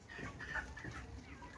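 Broiler chickens at about four weeks old cluck and chatter inside a poultry house on a farm in Zambia, several birds calling in quick overlapping bursts at close range with no talk.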